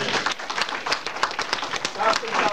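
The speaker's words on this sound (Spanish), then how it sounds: "Denle un fuerte aplauso al Señor." A church congregation bursts into loud, scattered clapping, sharp rapid hand claps layered thickly across the whole stretch.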